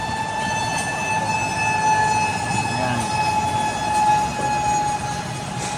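A fire truck siren near a fire close to Parañaque City sounds as a loud, steady, high-pitched tone over constant street rumble, with no voices.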